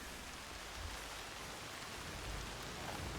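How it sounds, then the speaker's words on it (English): Steady rain falls in the open world of the video game Red Dead Redemption 2 while hunting near a settlement, a continuous even hiss of drops with no talk over it. "And here comes the rain."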